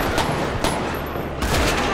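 Shotgun blasts in a police-patrol video game sound as three loud, booming bursts spaced about half a second to a second apart, harsh and close with no pauses into silence.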